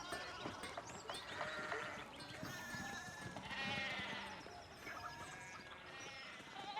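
Several sheep bleat repeatedly in the video game Pentiment, overlapping calls layered over a steady game soundscape with faint mechanical clicks, fairly quiet and continuous throughout.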